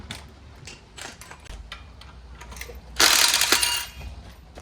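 Ratchet wrench clicking as bolts come off the back plate of a 1940 Chevy engine hanging on a hoist: scattered close mechanical clicks and taps, then a louder, denser burst of ratcheting near the end.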